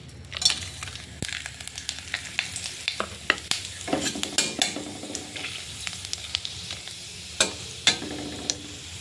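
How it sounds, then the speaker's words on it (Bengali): Whole cumin, a bay leaf and cinnamon sticks tempering in hot oil give a steady sizzle, broken by sharp irregular pops and scraping stirs, close and without talk. "এবার আমি ওই তেলের মধ্যে গোটা জিরে, একটা তেজপাতা আর দুটো দারচিনি ফোড়নে দেব"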